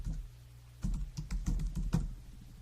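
Keys clatter on a computer keyboard during iPhone app coding, a quick run of close, crisp taps in short irregular bursts after a brief pause.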